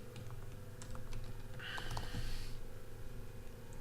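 Computer keyboard keys are struck in a short, uneven burst of soft, close clicks over a low steady hum, with no talking.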